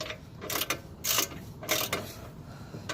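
A ratchet wrench loosens the muffler bolts on a Lexus GS300, several quick clicking ratchet bursts in an irregular rhythm, close and fairly quiet.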